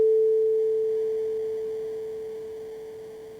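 A pure synthesized sine tone holds one steady mid pitch, fading very slightly over a few seconds, alone and without any other sound.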